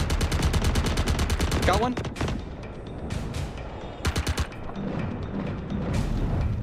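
Rapid bursts of automatic gunfire in a multiplayer video game battle, loud and close, with several separate volleys broken by pauses and players talking over the action.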